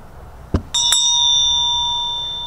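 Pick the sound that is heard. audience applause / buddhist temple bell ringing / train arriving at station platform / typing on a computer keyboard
buddhist temple bell ringing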